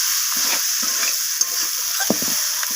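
Peas and spring onions sautéing in a pan for an egg omelette curry give a steady hissing sizzle, broken by soft, irregular stirring scrapes and light clicks of a spoon.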